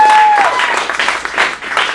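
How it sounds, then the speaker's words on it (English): An audience at an acting studio showcase in Phoenix claps for comedian Angela, a dense round of applause rising after a short tone at the start, with some voices mixed in. "So let's give a big round of applause for Angela."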